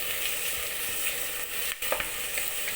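Onion fries with ginger and garlic in a pan for a Kerala-style chicken roast, a soft steady sizzle under occasional stirring clinks, fairly faint and without speech.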